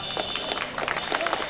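Audience applause at the Chausathi Yogini Mahotsav event, a brief patch of scattered clapping from a crowd, moderately loud and uneven, with a faint tonal whine running through it.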